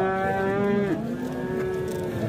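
At a livestock market where ewes with lambs are sold, one animal gives a single long, low, drawn-out call that drops in pitch midway, close and clear over quiet background.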